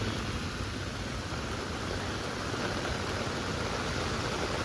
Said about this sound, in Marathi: आता पाऊस आला तर एकदम खतरनाक म्हणजे हा मुंबईचा पाऊस